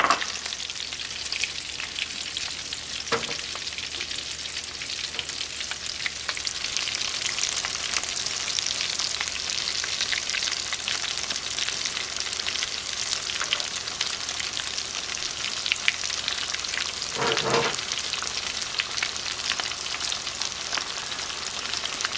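Bean and potato tacos deep frying in hot oil, a dense continuous crackling sizzle with a couple of louder bursts, heard close and alone.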